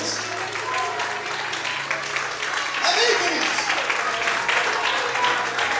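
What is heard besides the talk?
congregation applauding in church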